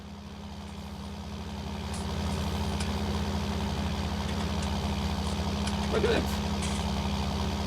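A John Deere tractor engine in Farming Simulator 19 drones steadily at low pitch throughout, with a voice speaking briefly over the idle-like rumble.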